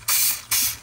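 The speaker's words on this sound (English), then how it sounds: "So I just am spraying it down with canola oil." Two short hissing bursts from a spray bottle of canola oil misting onto an old bell during restoration, close and loud with a brief gap between them.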